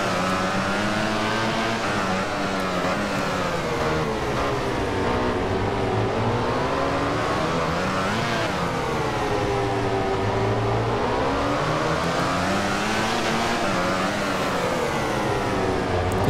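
Racing motorcycle engine in the video game MotoGP 15 drones loudly and continuously, its pitch rising and falling in long sweeps through acceleration and corners, with no other sounds over it.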